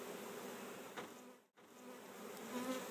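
A swarm of honeybees hums in a steady, dense buzz close by during an outdoor swarm removal, broken by a brief dip in the middle and then continuing. No one speaks.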